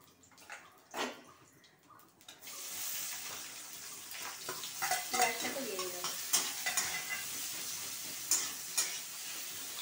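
Onions fry in hot oil tempered with black cumin, first with a few scrapes and clatters, then a steady loud sizzle that carries on under repeated stirring and spatula taps.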